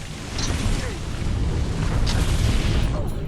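A sustained, rumbling explosion in the video game Guardians of the Galaxy, with loud, dense low booming that rolls on for several seconds and a few sharper bursts on top.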